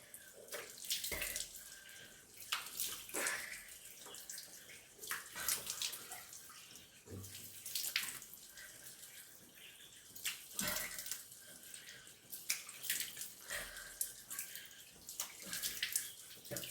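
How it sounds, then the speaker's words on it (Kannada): Icy cold tap water runs and splashes in a sink as a face is washed, uneven bursts of water and handfuls splashing, quiet and close, with no talk. "ಮುಖ ತೊಳೆದಾಯ್ತು."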